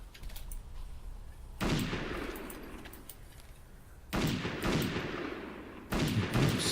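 Rapid gunfire from the first-person shooter game Ubersoldier 2 comes in three sharp, loud bursts of automatic shots separated by short quieter gaps with lingering echo.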